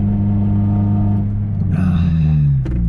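An Acura RSX with bolt-on upgrades idles loudly up close with a steady drone, then revs briefly, its pitch climbing and brightening before dropping back.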